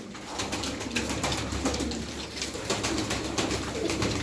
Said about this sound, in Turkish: Sağlıklı kuşlar, güzel kuşlar.